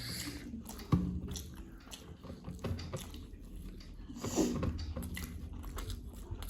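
Someone eating spicy schezwan noodles with sunny side up eggs, close to the mic: soft irregular bites, wet chewing and slurping with occasional louder crunchy bites, quiet and alone with no talk.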